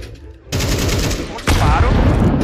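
Gunfire in the video game Counter-Strike: a loud burst of shots begins abruptly and keeps going, then a second, even louder volley joins in, dense and close.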